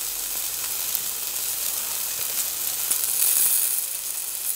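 Khmer lemongrass beef skewers sizzle on a hot grill, a steady bright hiss and crackle close by, holding constant for several seconds with no voices.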